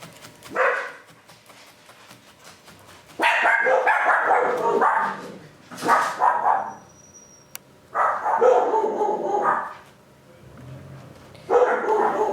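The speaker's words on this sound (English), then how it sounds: "we just had some barking" A dog barks in several loud bursts of yips and woofs, separated by short pauses, fairly close by with no one speaking.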